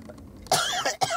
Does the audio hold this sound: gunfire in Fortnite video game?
no